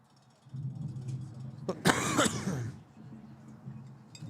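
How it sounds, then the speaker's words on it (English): A single loud, harsh cough bursts out over a low background rumble, brief and close, with quieter room noise before and after. "I thought I muted that cough."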